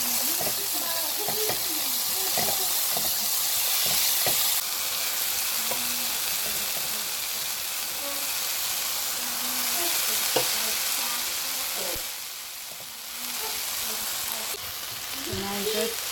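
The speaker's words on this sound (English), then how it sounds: "on high heat we just stir fry it for about 2 minutes, and we add in our rice." Shrimp fried rice with a Maggie seasoning cube, made as a green rice, stir-fries in a pan on high heat: a steady, close sizzle runs throughout, broken by scraping and clattering strokes of the spatula.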